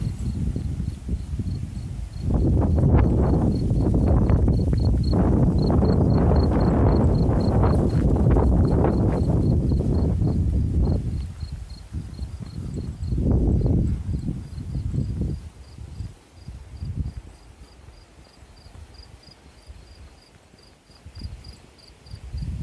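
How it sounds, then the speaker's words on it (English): Faint, rhythmic cricket chirps pulse steadily in the background, partly covered by loud rustling and crunching footsteps nearby, on a walk in Guardamar del Segura, Spain. "Hear the crickets if you listen closely"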